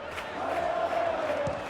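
Stadium crowd chants ring out in the PES 2020 football video game, a steady sustained roar of many voices singing together with no commentary over it.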